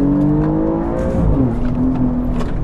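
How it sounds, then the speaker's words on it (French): An Alfa Romeo Giulia GTAm engine revs hard and climbs in pitch, accelerating with a steady loud roar that shifts gear midway, no voices. "ça accélère fort et ça freine fort."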